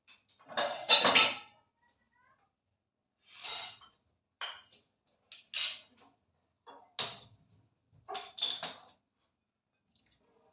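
A kadhai is set on the stove to heat for pav bhaji, giving a handful of separate metallic clinks and clunks with quiet gaps between them.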